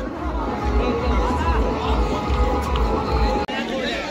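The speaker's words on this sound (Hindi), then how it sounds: "देख लो भाई कितनी भीड़ आ रखी है।" Large outdoor crowd at a Republic Day gathering in Bhiwani, a steady dense babble of many voices, close and continuous, with nearby talk over it.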